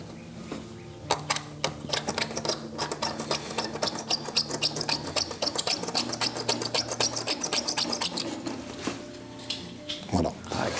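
A leather worker rolls a tracing wheel across leather to mark stitch points, making a fast, even train of small clicks and ticks up close. The sound pauses briefly near the end.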